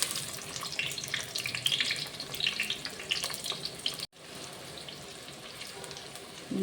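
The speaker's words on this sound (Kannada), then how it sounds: "ಮೊದಲಿಗೆ ಈರುಳ್ಳಿಯನ್ನು ಹಾಕುವ." Onions dropped into hot oil in a pan for a Kannada fish curry, giving a soft, steady sizzle and crackle that is faint and close, breaking off briefly near the end before the frying resumes.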